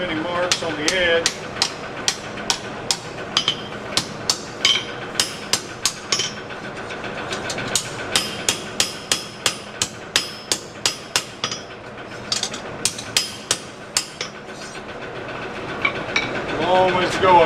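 Hand hammer with a rounding edge striking metal sliding door hardware, a long run of sharp, evenly paced ringing blows close by, some in quick pairs, with a few brief pauses.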